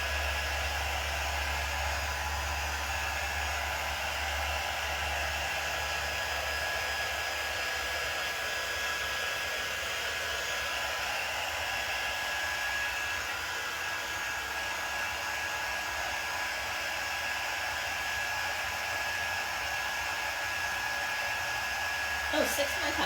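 A hair dryer blows steadily to dry a layer of transfer material on a handmade door tag, a constant close whooshing hum that runs unbroken from start to finish with no talk over it.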